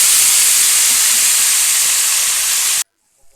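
Marinated lote fish hits a hot wok and sets off a loud, dense sizzling hiss. It runs unbroken for almost three seconds, then cuts off abruptly into near silence.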